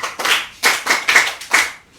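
Children clap in a few quick rhythmic bursts, close and fairly loud, with short pauses between the groups of claps.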